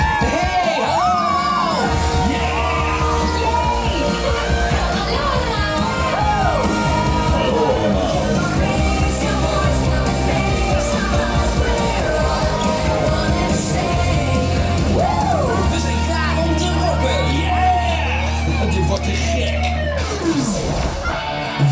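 A festival crowd at a rock show finale at Walibi Holland roars, yells and whoops loudly and without pause, while a sustained low musical drone plays beneath the cheering.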